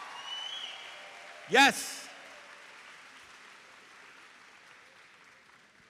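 A graduation-ceremony crowd in an arena applauds the seniors of Young Women's Leadership Academy's class of 2024, with a low steady crowd wash and one brief loud cheer rising above it, while a voice speaks briefly.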